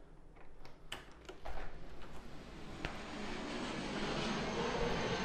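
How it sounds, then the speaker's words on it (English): Loud airplane engine roar near an airport, heard from an apartment balcony, swelling into a sustained broadband rush that builds and stays strong, with a few sharp clicks early on. "So I live right next to an airport. That's why you hear the loud airplanes."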